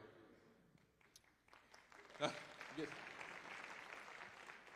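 An audience at a city State of the City address starts clapping a couple of seconds in, the applause rising from quiet room noise and then holding as a steady, moderate patter.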